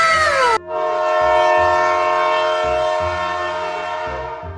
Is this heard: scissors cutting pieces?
no